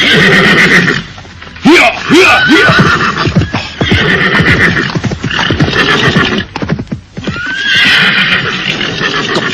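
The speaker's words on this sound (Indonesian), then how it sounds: "Kuda Narasinga menuju kemari." A horse neighs repeatedly in loud, close whinnies, with clip-clop hoof sounds and rustling between the calls.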